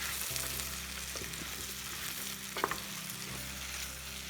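Soy sauce stirred into a frying cauliflower Manchurian gravy in a pan, giving a soft continuous sizzle with light spoon scrapes and a couple of small clinks.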